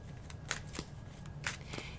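A deck of tarot cards is shuffled quietly, giving a few soft riffling bursts spaced apart over a steady low hum.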